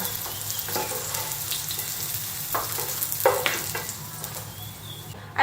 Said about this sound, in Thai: ทอดเต้าหู้นะคะ ให้เหลืองสวยเลย